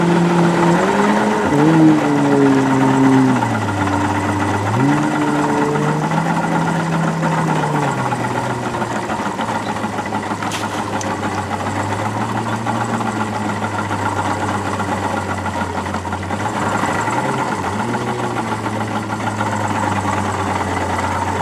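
The engine of a 1985 Proline center console boat idles unevenly, its low hum dipping and recovering several times over a steady running drone, close and continuous with no talking.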